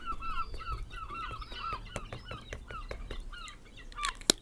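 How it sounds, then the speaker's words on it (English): A cluster of seagulls calls noisily, overlapping squawks and honking cries repeating rapidly, loud and nearby, with sharp clicks scattered through. "seal gulls are going a bit bonkers"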